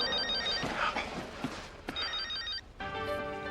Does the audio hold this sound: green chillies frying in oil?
no